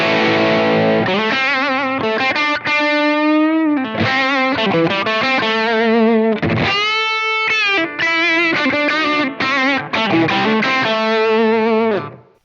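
Electric guitar played through a Blackstar Amped 3 100W amplifier pedal with the boost engaged after the preamp, giving loud, driven chords and sustained notes in a continuous riff with no talking.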